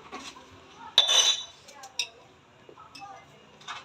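A spoon clinks against a pressure cooker as ghee and oil are added: a few bright metallic taps and scrapes, close and fairly quiet, spaced irregularly under a person talking.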